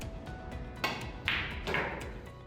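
A billiard cue tip strikes the ball with soft, crisp taps, followed by sharp clicks of balls colliding over a steady room hum.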